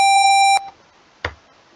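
A single steady electronic beep tone from a pattern played back in a music tracker coded in C, lasting about half a second, followed by a faint short click.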